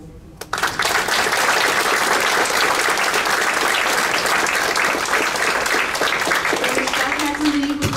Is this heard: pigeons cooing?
no